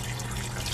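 Water runs steadily into a stock pot, a close, continuous splashing rush without any talking.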